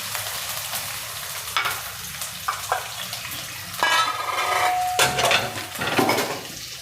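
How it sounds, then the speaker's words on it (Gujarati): Curry leaves, chopped green chilies and peanuts sizzle and crackle in hot oil for a Gujarati farali khichdi, with bursts of spattering and a spoon scraping and stirring the pan up close. "બધું થોડુંક આપણે તેલમાં શેકી લઈશું"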